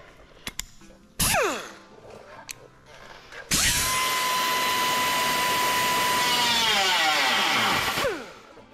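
A power tool cuts out the boot lid skin on an XB Coupe, whining up in a brief burst and then running loudly and continuously for several seconds before winding down.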